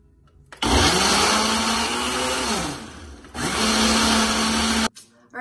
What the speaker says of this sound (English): Mix it all up in there, throw it on, and now we're gonna blend it.